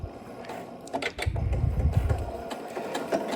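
A sewing machine stitching an appliqué with the needle set down, running in short, muffled mechanical bursts that build into a steadier low hum, with a few light taps and clicks along the way.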